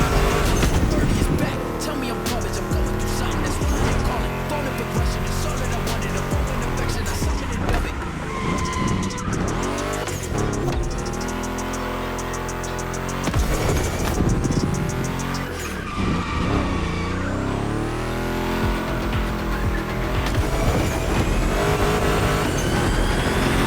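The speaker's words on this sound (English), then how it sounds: "What kind of vibe are you getting from that Mustang GT?" A Ford Mustang GT muscle car in The Crew Motorfest roars loudly throughout, engine revving and shifting with repeated tire squeals and skids through turns, while a voice talks over it.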